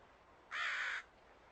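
A single crow gives one short, harsh caw, loud and near against a quiet background.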